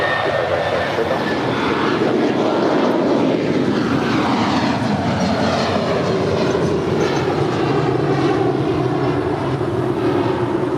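An Airbus A380 airliner at LAX gives a sustained loud roar with shifting engine whine and rumble, steady for the whole stretch, with faint voices underneath.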